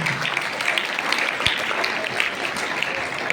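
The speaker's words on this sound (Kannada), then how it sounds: "ಎಲ್ಲರೂ ಚಪ್ಪಾಳೆ ತಟ್ಟಿ ಅವರಿಗೆ ಗೌರವವನ್ನು ಸಲ್ಲಿಸಬೇಕು" A crowd clapping steadily at an honouring ceremony, a dense wash of applause that stays even in loudness for a few seconds.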